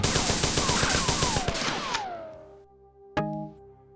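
Rapid automatic gunfire in the classic shooter Marathon hammers out loudly, then trails into a ringing decay before a single sharp shot cuts in near the end.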